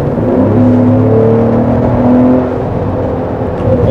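A Ford Explorer 3.0 Platinum SUV accelerates hard from inside the cabin, its engine roaring loudly with a rising whir that peaks and eases, steady and close, with no talking over it.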